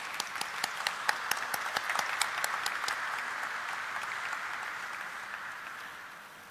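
An audience applauds directors standing on stage at a corporate event, with sharp claps at first that thin into a softer, fading round of clapping.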